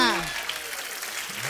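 Audience applause at a Bollywood entertainment show, a moderate wash of clapping that fades slightly, with a voice speaking over the start.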